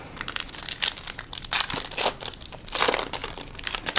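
A foil 2018 Topps Big League card pack wrapper torn open up close, bursts of crisp crinkling and ripping that come in uneven waves.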